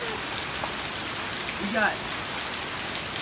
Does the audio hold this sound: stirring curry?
no